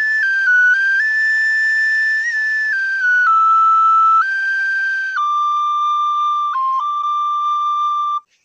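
A tin whistle plays the slow theme from A Fistful of Dollars alone, clear and close, each note held steadily before stepping to the next, ending with a short grace-note flick.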